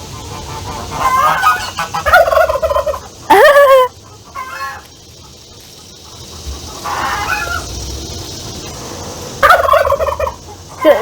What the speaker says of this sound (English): That's the male turkey.